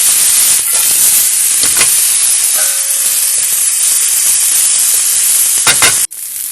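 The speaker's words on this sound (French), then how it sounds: "On commence la cuisson des oignons. Et on fait rissoler." Onions sautéing in olive oil make a loud, dense hiss that holds steady for about six seconds, marked by a few stirring swishes and a brief tonal squeak, then cut off abruptly.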